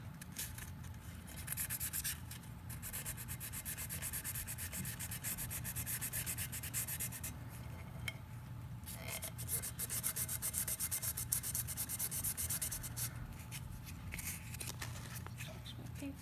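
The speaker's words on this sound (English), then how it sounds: "Switch where I'm sanding." Sandpaper rubs by hand over a glitter epoxy surface in a long run of steady, scratchy back-and-forth strokes. Brief pauses break the strokes, and the sound stays close and fairly quiet throughout.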